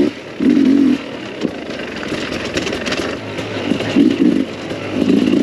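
Sherco 300SE two-stroke dirt bike with Smartcarb riding fast trails, engine droning and revving in pulses, rising and falling at mid distance with no talking.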